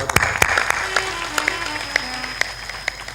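At a devotional satsang gathering, an audience claps in scattered, uneven bursts, sharp individual hand strikes standing out over a murmur of background voices and a faint sustained tone.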